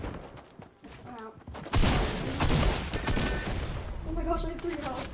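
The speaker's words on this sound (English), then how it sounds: "They're shooting at you." Gunfire in the video game Fortnite, bursts of rapid shots and crackling fire in quick succession, fairly loud, with a voice talking over parts of it.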